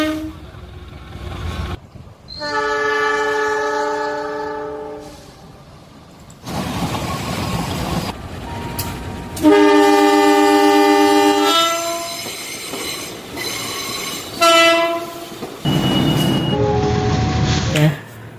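A CC206 diesel locomotive rolls past, loud and close, sounding several long, tonal horn blasts with rumbling wheel noise and squeals between them.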